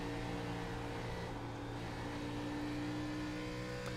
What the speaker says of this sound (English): Heard him get out of the throttle just a little bit there coming off turn number 4.